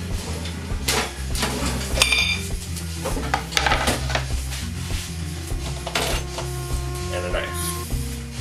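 Kitchen clatter of a cutting board and utensils being set down while preparing a caipirinha, with several sharp knocks and clinks scattered across the stretch as a person talks.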